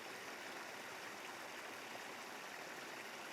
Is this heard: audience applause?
no